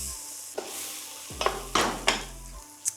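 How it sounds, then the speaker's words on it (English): Vegetables sautéing and being stirred in a pot over high heat for a lentil soup, with a soft steady sizzle broken by several sharp scraping and clinking strokes of the spoon against the pot. "Just want to cook these down so they're translucent, so about a minute, and keep stirring"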